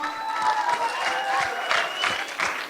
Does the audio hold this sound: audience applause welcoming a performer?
yes